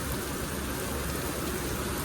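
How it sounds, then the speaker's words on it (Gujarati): Night rain falls steadily in Morbi, an even, continuous hiss with no voices. "હજી સુધી વરસાદ ચાલુ જ છે"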